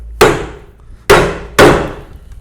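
A chisel is struck hard with a mallet to chop out wood on a Moravian workbench. Three loud, close knocks each ring out and decay, the last two following quickly.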